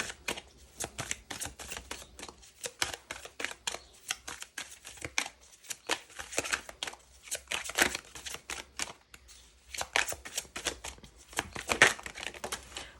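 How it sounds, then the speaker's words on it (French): Tarot cards being handled and shuffled for several seconds, with dense crisp papery flicks and snaps in irregular bursts and short pauses, close and moderately quiet, with no talk. "Je vais prendre quelques cartes."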